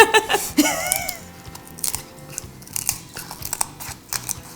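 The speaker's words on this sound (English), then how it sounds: "It's easier to use a scissor. Wow, look how easy that goes through." Kitchen scissors snip through a raw chicken's backbone while spatchcocking it, giving a few close, crisp crunching cuts. Brief voices and a giggle come early, then scattered small clicks and crackles follow.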